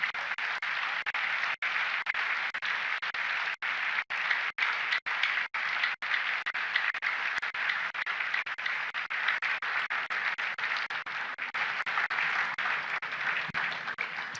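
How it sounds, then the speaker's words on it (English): Sustained audience applause for Mrs. Ibukun Awosika, dense and steady throughout at a fairly even level, with a few brief dips in the clapping. "Another round of applause, please, for Mrs. Ibukun Awosika."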